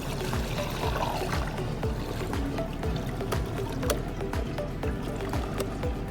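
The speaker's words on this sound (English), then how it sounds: "Insert your funnel, and then go ahead and pour the products in." Dissolved product poured through a funnel into a container during a high-capacity fill process, a steady close-up liquid gurgle with rhythmic glugging pulses throughout.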